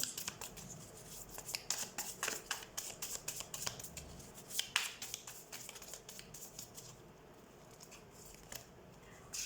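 Tarot cards are shuffled and drawn by hand, giving quiet, irregular bursts of riffling and sharp card snaps that fade toward a near-silent end, with no talking.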